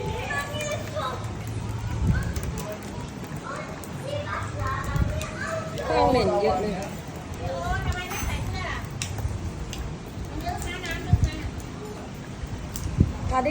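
Children play and shout at a rooftop swimming pool on the 26th floor of the Holiday Inn Vana Nava hotel. Their lively voices and splashing continue throughout, with adults talking nearby.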